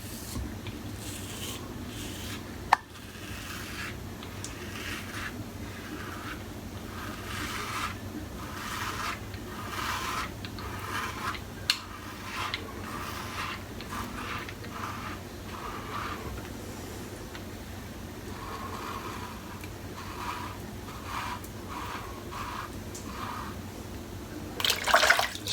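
A safety razor scrapes over a lathered head in a steady series of short, rasping strokes, close and continuous for the whole stretch with a faint wet background and no talking.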